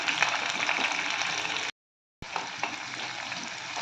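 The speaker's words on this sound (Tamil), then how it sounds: "அடுப்ப சிம்ல வச்சு வெங்காயத்தை வதக்கிடலாம்" Continuous sizzling of onions and garlic sautéing in a pan on a low flame, interrupted by a short silent break before the crackle resumes.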